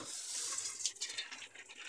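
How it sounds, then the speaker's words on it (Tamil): Hot water is drained off cooked noodles for vegetable thukpa, a soft splashing trickle that pours steadily for a moment, fairly quiet and close. "இதை ஆஃப் பண்ணிட்டு இப்போ ட்ரெயின் பண்ணி எடுத்துக்கிறோம்."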